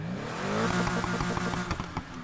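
A flat-six RSR engine fitted to a Lotus Exige S in Need for Speed: Heat, revving steadily with a rising harmonic whine and rhythmic pulses, close and loud, with no talking.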